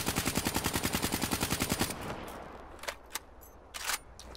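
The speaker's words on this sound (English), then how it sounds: "here's another weapon that I'm gonna use, the KN44. It doesn't have a big recoil" Rapid automatic fire from the KN44 assault rifle in the video game Black Ops 3, a steady, even burst of loud shots lasting about two seconds, then a fading tail with a few scattered clicks and thuds.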